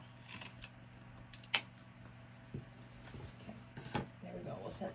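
Scissors make a single sharp snip through material for an Easter wreath. Small handling clicks and rustles come before and after it, close and quiet.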